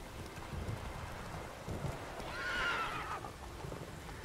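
A horse in The Witcher 3 video game lets out a loud whinny over a steady rainy background, with faint hoof clip-clops underneath.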